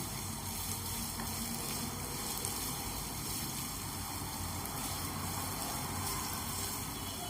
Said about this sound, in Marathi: आता आपण कांदा छान कलर चेंज होईपर्यंत परतायचा आहे